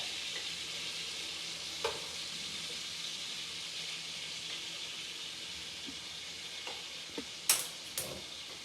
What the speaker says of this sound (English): You want to get a nice brown, nice sear.